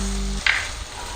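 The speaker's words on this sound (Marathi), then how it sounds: "हे पहा, भाज्या छान अशा परतून झालेल्या आहेत।" Mixed vegetables including cabbage, salted, sautéing in a pan for a spring roll filling, a low hum giving way to a brief soft sizzle burst that fades into a faint steady frying hiss.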